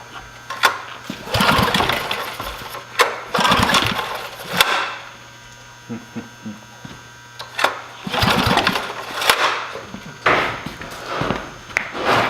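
A portable gasoline generator is started before a storm, with several loud, uneven pull-start bursts of engine noise separated by quieter gaps, close by and without talk.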